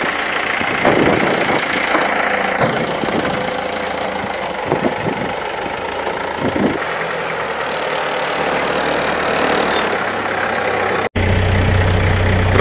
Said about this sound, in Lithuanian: Na va, išvažiuoja traktoriukas